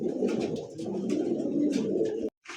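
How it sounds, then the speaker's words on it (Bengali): Pigeons cooing at a pigeon market selling show breeds, a dense run of soft throaty coos close by, continuous before cutting off briefly near the end. "তো দর্শক এই মুহূর্তে দেখতে পাচ্ছেন আরো 2টা কবুতর"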